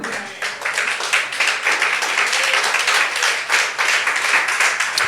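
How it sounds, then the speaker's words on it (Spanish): Congregation applauding in a church after a closing prayer, a dense, steady wash of many hands clapping close by for about five seconds with no talk. "Dele un fuerte aplauso al Señor."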